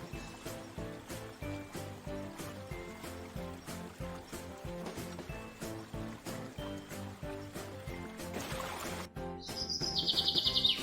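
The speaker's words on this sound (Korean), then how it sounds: "새소리도 머릿속에 흠뻑 담아보고" Birds chirp in short, repeated calls within the Gimcheon Mulsori ecological forest, fairly faint against a soft, steady background that may include trickling water.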